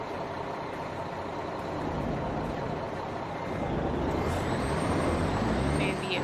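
A Mack R series truck engine in American Truck Simulator rumbles loud and steady, swelling in volume partway through, with a brief hiss like an air brake and a thin whine over the drone.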